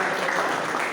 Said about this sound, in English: Now, a big round of applause for yourself